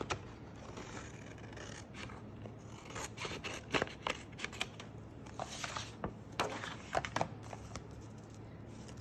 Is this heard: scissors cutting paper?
yes